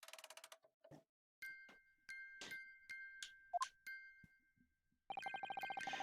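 Music box chiming in The Great Ace Attorney video game: bright bell-like chime notes ring out in short bursts separated by pauses, with a brief dull knock partway through and a sustained chiming phrase at the end.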